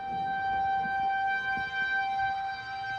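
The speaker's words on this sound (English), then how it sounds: "But emergency sirens like this one are not meant to be your first line of defense anymore." A tornado emergency siren wails steadily and drones continuously, its tone held level throughout with faint background rumble beneath it.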